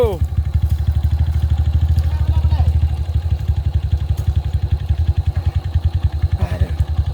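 A Honda motorcycle stuck in thick mud, its engine revving hard in fast pulsing bursts, loud and close, with people talking over it.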